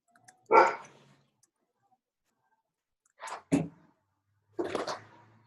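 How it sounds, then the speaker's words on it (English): A dog barks three times, with single sharp barks separated by long quiet gaps and a doubled bark in the middle, heard from a short distance. "My dog's barking."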